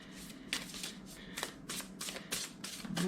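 Tarot cards being riffled and shuffled by hand, close up, in a series of quick papery bursts that run through the whole stretch, with no talking.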